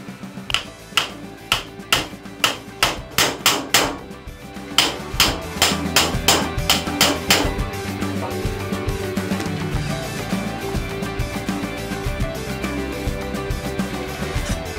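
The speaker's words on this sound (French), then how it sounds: "l'impact créé par le marteau sur le tournevis d'impact" A hammer strikes an impact screwdriver fitted with a PH2 bit on a damaged screw in a steady series of sharp, close metallic taps, about two per second, then gives way to a continuous grinding rattle.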